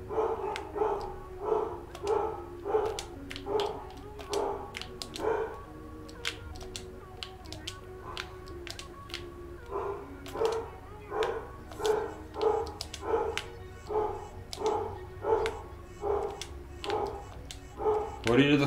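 A pet dog barks repeatedly in rapid bursts, with short pauses between volleys, fairly close and loud, its sharp yaps dominating the room.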